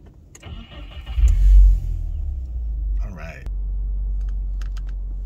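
A 2022 Subaru WRX revs with a deep engine surge, then settles into a steady low rumble on a test drive, with a few clicks and shuffles close by.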